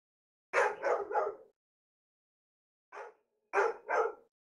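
A dog barks in two bursts, three loud close barks then a pause and three more, with silence between and no talk over them.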